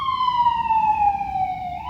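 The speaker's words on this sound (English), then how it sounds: "It was an ambulance, my mistake." An ambulance siren passing outside a home, heard as a loud, steady wailing tone that slowly falls in pitch and then starts to climb again at the end, over a low rumble of traffic.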